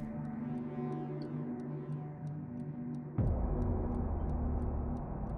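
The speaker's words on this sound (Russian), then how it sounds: "тикают часики" A clock ticks steadily and evenly in the horror video game Evil Inside, a soft regular beat over a low droning hum, joined near the end by a sudden deep rumbling surge.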